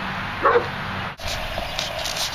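A single short dog bark sounds once, a little distant, against a quiet background hiss.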